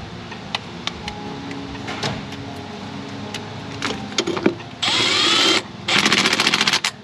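Valve cover bolts on a GM engine being run down with a ratchet wrench during a top-end teardown, a series of short ticks and clicks followed by two loud bursts of fast ratcheting, close up.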